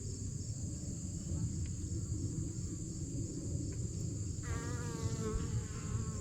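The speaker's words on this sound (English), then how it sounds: "Obviously, we've got bees everywhere." Bees buzz steadily throughout the inside of an old boat, a continuous close insect drone filling the space with no talking.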